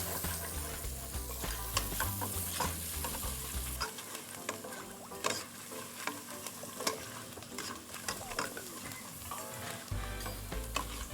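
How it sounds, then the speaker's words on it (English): Onions and garlic frying with a pinch of salt in a pan, stirred steadily: a continuous close sizzle with repeated scraping and ticking stir strokes, and no talking. "So we're going to put some onions and some garlic. Fry them to the translucent."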